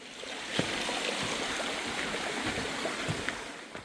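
A mountain valley stream flows with a steady, broad rushing wash of water, continuous and fairly close, with a few faint clicks and knocks over it.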